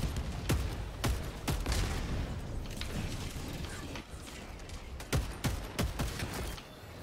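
A Verdict pistol fires in Helldivers 2 in sharp single shots spaced irregularly, about eight in all, over a busy bed of game noise and mechanical clatter, with no speech.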